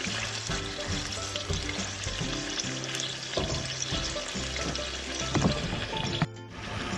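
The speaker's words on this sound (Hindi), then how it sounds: "तो वो fry this for 5 to 8 minutes के लिए इसके अंदर। मेक श्योर आपका ऑयल जो है गर्म हो।" Chicken pieces frying in hot oil for coal chicken karahi, a steady dense sizzle with occasional pops and crackles, close and continuous with no talking.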